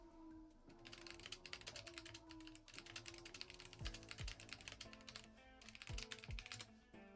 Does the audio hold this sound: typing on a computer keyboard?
yes